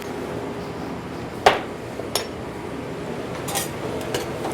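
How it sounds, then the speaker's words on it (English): Metal clinks of a utensil against a cooking pot as a spicy pepper sauce is stirred, with one sharp knock then lighter scattered taps over a low background hiss. "Give this a stir"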